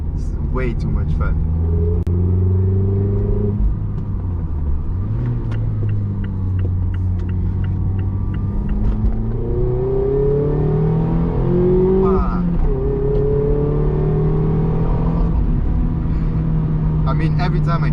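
Mazda MX-5 ND sports car driving on a winding country road, its engine a steady close rumble that rises and falls with gear changes, with someone talking over it throughout.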